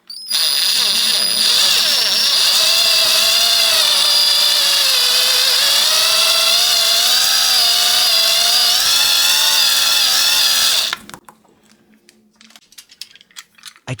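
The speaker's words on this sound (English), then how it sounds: "I drill a hole halfway through." A power drill bores a hole halfway into a halved wine cork: steady loud whining motor for about eleven seconds, pitch wavering slightly under load, then stopping abruptly and followed by a few faint handling clicks.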